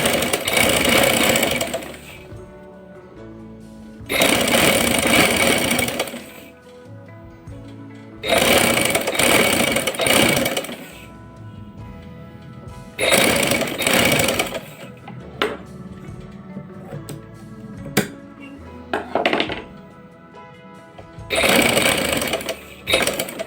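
A sewing machine stitching cord piping onto a lined kameez runs in close, loud whirring bursts of a few seconds each, separated by short pauses with faint handling sounds.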